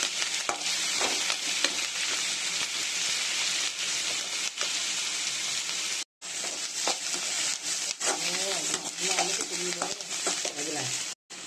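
Onions sauté in a pan for kulambu with a continuous hissing sizzle and intermittent stirring, close up, with one brief break in the sound.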